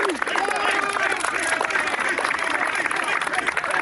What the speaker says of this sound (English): can we have a round of applause for our defeated Union?